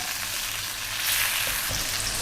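Shrimp fry with garlic in a hot pan, giving off a steady, close, dense sizzle and crackle throughout with no talking.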